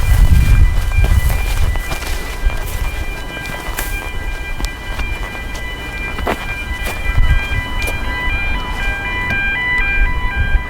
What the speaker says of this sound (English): It's the train making all the noise, I think.